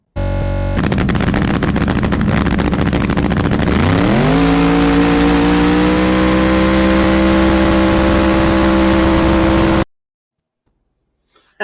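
A race car engine in a runway race revs hard and climbs to its rev limiter at 6,500 rpm, holding a loud, steady, buzzing drone for several seconds before cutting abruptly to silence.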